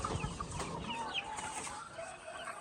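A flock of white leghorn chicks and chickens clucks and chatters continuously nearby, soft overlapping calls with bright chirps from young birds mixed in.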